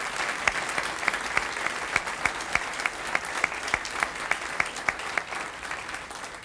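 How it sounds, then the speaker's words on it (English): Sustained applause from a crowd at a school education foundation honor luncheon for distinguished alumni and retired faculty, a dense steady wash of clapping with regular sharper claps standing out near the microphone. "If we could have one more round of applause for all of our distinguished alumni and retired faculty."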